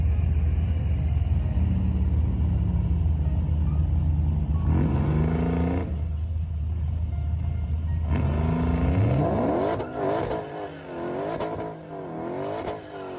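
Supercharged wagon with a Vortec V3 supercharger at 10 to 13 PSI, around 600 horsepower: a deep, loud idle rumble broken by two sharp revs with rising whine, then a rapid series of blips near the end.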